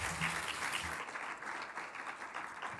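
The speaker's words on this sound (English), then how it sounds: "Please give a great round of applause to Anya Grundmann from NPR Music and Scott G" Audience applause at a conference session during Jazz Fest, a dense steady wash of many hands clapping that fades slightly toward the end.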